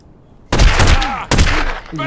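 Gunfire in a video game: two loud, close bursts of shots in quick succession after a quiet start, each ringing out briefly, with a voice speaking at the very end.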